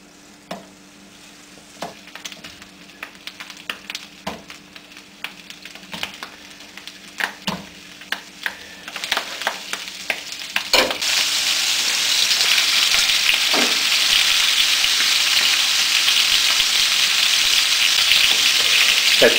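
Bratwurst frying in butter: scattered clicks and taps of handling come first, then a loud, steady, close sizzle takes over and keeps going to the end, with no voices.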